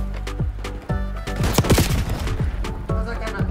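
Rapid bursts of gunfire in Black Ops 6, a multiplayer shooter match, crackling in dense overlapping volleys with sharp impacts and booms, loud and continuous throughout with a voice speaking over it.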